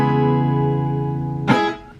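A strummed guitar chord from a song arrangement rings out in a sustained wash, then a second brighter strum hits near the end and fades quickly. The playing is clear and close, with no voices.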